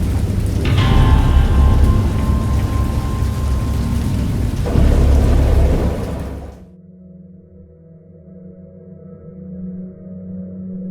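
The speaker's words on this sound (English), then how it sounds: "I heard pearls of thunder and other tones which nature utters only in her wildest moods" Heavy rain and rolling thunder of a storm in the Dagon game, loud and dense for about six seconds before cutting off abruptly into a quiet, low ambient hum.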